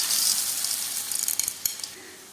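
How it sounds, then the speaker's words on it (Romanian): Peas tipped into a hot pan with softened vegetables and tomato broth, giving a bright steady sizzle that fades slightly, with a few soft stirring knocks and clicks near the end. "și adăugăm mazărea."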